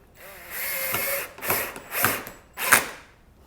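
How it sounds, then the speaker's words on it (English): A drill on a low torque setting drives screws into an acoustic panel, giving several short whirring bursts with ratcheting clutch clicks, close by and with no talk. "I'm using my drill here and it's not on its tightest setting."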